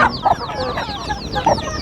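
A rooster and hens cluck repeatedly inside a poultry coop, close and clear, with short rhythmic clucking bursts filling the whole short stretch.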